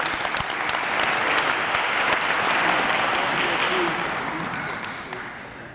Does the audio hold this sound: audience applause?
yes